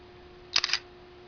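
An LG GT500 phone camera snapping a photo with flash, a short cluster of quick shutter clicks near the middle of an otherwise quiet moment.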